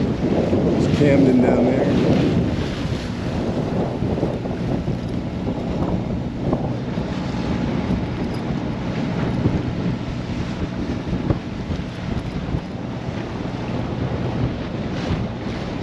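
Strong northwesterly wind roars across the microphone aboard a Morgan 382 sailboat at sea, a steady loud rush with water noise beneath and people talking over it.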